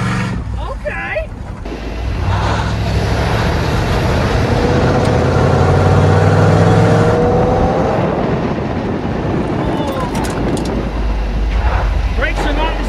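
A rebuilt 1979 Monte Carlo lowrider's engine runs at a steady, loud, close rumble throughout, with people talking over it.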